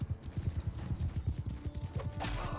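Horse hooves gallop in the Mount and Blade 2 Bannerlord video game, a rapid, rolling clip-clop of several mounts close by, with a brief burst of louder battle noise near the end.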